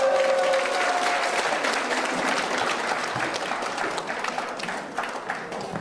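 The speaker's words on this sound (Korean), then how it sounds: "박수로 맞이하겠습니다" Warm applause from a lecture audience welcoming reporter Lee Young-pung to the stage. It is steady and full, tapering slightly toward the end, with a faint tone briefly at the start.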